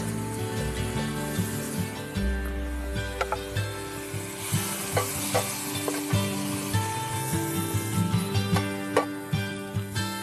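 Fresh oysters tossed into a hot pan of butter and garlic, giving a steady crackling sizzle under a bed of music, with ticking and clattering of pan and utensil.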